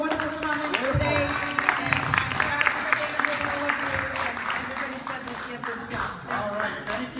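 A crowd at an outdoor political rally breaks into steady applause, a dense wash of clapping that continues throughout with a few scattered voices mixed in.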